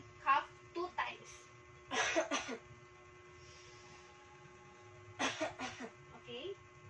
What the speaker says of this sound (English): inhale and cough 2 times